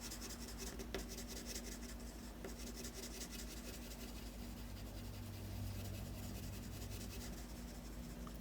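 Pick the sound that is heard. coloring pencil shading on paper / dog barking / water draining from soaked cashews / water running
coloring pencil shading on paper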